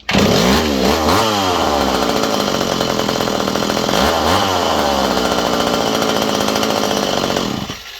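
A freshly rebuilt McCulloch Mac 1-10 chainsaw with an electronic ignition chip, tuned slightly rich, runs loud and close, its two-stroke engine revving up twice with rising whines before settling into a steady buzzing idle that cuts off at the end.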